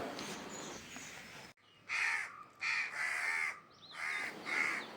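Several crows caw in harsh, repeated bursts, fairly close and loud, with short pauses between calls and some background noise early on.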